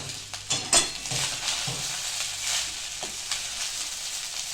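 Rice with cumin, with butter added, fries in a pan as a soft, steady sizzle, broken by a few scraping stirs and light utensil knocks near the start.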